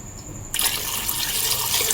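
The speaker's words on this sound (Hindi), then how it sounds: "थोड़ा सा पानी और डालेंगे।" Water is poured into a pot of goat trotters being cooked with salt and turmeric: a quiet start, then a sudden bright splashing gush that keeps running steadily, close by, with no talk.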